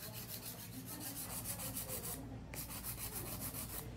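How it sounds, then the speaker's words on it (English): A hand file scrapes across gel nails in a full set being shaped, giving quick, even back-and-forth rasping strokes, close and steady throughout, with no voices. "I had to go through with my hand filer and get it all out"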